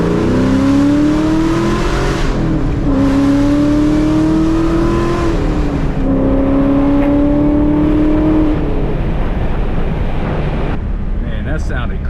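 Ford Mustang Cobra engine revving hard and loud through power shifts, rising pitch sweeps climbing in each gear, broken by brief dips between shifts, heard from inside the car with a voice speaking briefly over it.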